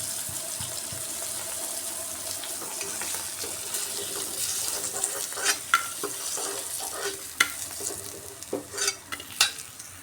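Dried fish and mixed vegetables fry in oil while being stirred, a steady close sizzle joined by sharper scraping clatters of the utensil that grow more frequent toward the end.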